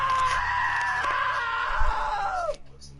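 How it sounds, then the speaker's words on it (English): A man who has slipped into a table saw lets out a long, loud, high-pitched scream that holds steady, then bends downward and cuts off abruptly, leaving near silence. "Now that was a great scream."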